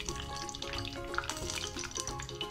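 Garlic and mustard seeds sizzle and crackle in hot ghee, a steady frying hiss with small pops, close up, with faint stirring or metallic clinks.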